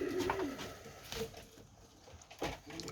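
A male Vantabilek pigeon, a very black show bird with injured foot feathering, coos in a coop during an evening visit, a few soft murmuring calls close by with no talk over them.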